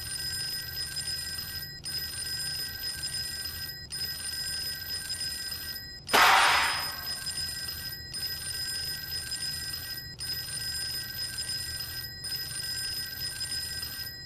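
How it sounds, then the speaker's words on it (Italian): An old telephone rings steadily in the horror video game Fork Road, its bell trilling in regular bursts separated by short pauses over a low background drone, with one sudden loud burst of noise midway. "Quante volte il telefono ha squillato?"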